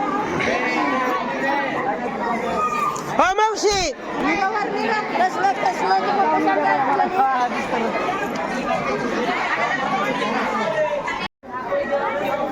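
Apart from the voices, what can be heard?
crowd chattering at Kallol Tirth, Tuljapur temple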